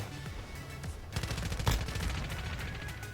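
Bursts of rapid gunfire from the Call of Duty: Warzone Mobile video game, featuring an ARM9 weapon, with dense, loud shots crackling in quick succession.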